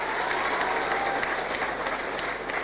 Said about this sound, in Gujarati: ખરેખર એમની મધર માટે એક જોરદાર તાળી પાડો.